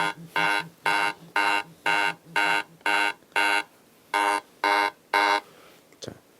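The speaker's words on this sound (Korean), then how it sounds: "이렇게 자석 센서에서 이 자석이 떨어지게 되면 반응을 해서 이 사이렌이 울리게 됩니다." A home security siren set off by a magnetic window sensor blares in a steady series of about ten evenly spaced loud electronic beeps, each half a second long, followed by a brief click near the end.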